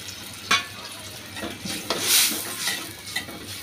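Lentils being stirred and fried in a cooking pan for a drumstick and pumpkin dal, heard as repeated close scraping strokes of a spoon over a soft, steady sizzle, with no talking.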